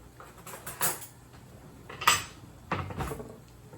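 Cutlery clinks and rattles in a kitchen drawer as a fork is fetched, a few soft metallic clatters in separate bursts, fairly faint and close.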